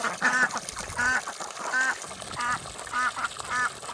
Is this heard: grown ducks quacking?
yes